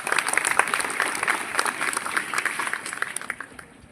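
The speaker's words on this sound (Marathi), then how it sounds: "तुमच्या नशिबासाठी तुम्हीच एकदा टाळ्या वाजवा." Audience at a school ceremony for 10th and 12th grade students bursts into dense, steady applause at close range, the clapping holding for a few seconds before tapering off at the end.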